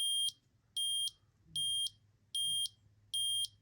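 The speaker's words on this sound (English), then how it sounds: "You heard 5 beeps, right?" Cuda RX-795 red dot sight emitting five evenly spaced, bright electronic battery-level beeps, each about a quarter second long, clear and close against a faint low background hum.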